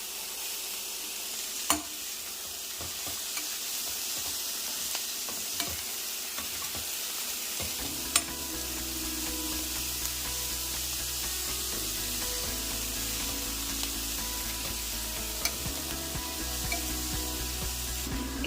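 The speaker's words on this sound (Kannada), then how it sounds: "ಈಗ ನಾನು ಇದಕ್ಕೆ ಟೊಮೊಟೊ ಹಣ್ಣನ್ನು ಸೇರಿಸ್ಕೊತಾ ಇದ್ದೀನಿ" Tomatoes stir-fry in a pan for dal khichdi, with a loud, continuous close sizzle and steady scraping of the spatula, plus occasional sharp knocks.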